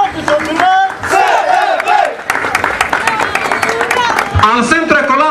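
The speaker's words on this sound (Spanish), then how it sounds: "Démosle un fuerte aplauso." A crowd at the closing of a school parade for the Centro Escolar Baltazar Parada on 15 September 2009 roars and cheers loudly, with shouts and voices rising and falling in excited bursts and some clapping mixed in.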